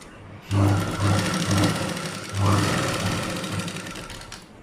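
A sewing machine stitches a blouse, running in two steady bursts of rapid mechanical whirring with brief pauses between, close and fairly loud, with no one talking.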